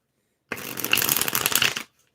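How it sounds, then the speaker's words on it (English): A Marielle tarot deck is riffle-shuffled in one quick burst of crisp, fluttering card slaps lasting just over a second, close and clear with silence on either side. "I'm shuffling the Marielle here."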